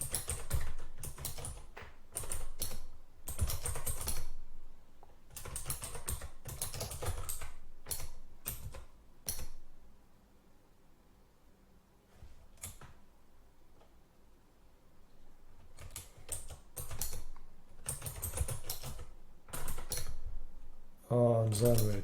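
Computer keys clatter in quick irregular bursts as git commands are typed, with a quiet pause in the middle before the tapping resumes.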